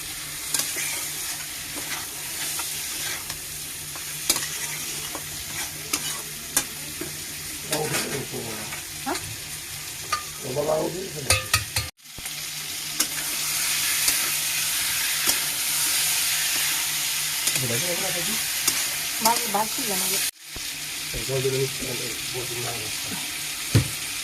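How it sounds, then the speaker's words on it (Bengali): Eggs frying in a hot wok beside a pot of cauliflower curry, with steady sizzling broken by repeated metal spatula scrapes and stirring, plus brief running water from a tap; the sound stays close and moderately loud throughout. "এটা আমি ডিম ভাজা দেবো এখন"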